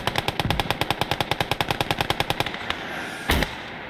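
Rapid machine-gun fire in the World War II game Gates of Hell: Ostfront rattles in a loud, even burst of about twenty shots. After a short lull, one heavy shell impact booms.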